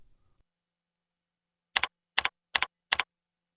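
Four crisp keystrokes on a computer keyboard while entering a username, evenly spaced and close, each a sharp double click, in an otherwise silent room.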